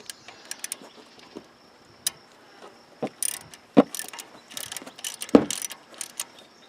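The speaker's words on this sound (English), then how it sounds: "Now we're going to slowly and evenly torque these down" A ratchet clicks in short bursts while bolts are torqued down on a 2012 Honda Foreman TRX500 ATV, giving close, sharp pawl ticks in irregular runs with a few louder knocks in quiet surroundings.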